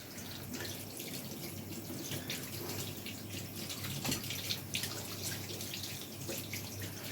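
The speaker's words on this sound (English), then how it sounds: "when you're washing the dough from your hands" A kitchen tap runs steadily as hands are rinsed of wholemeal bread dough, a faint continuous hiss of flowing water with small splashes and drips, no talking.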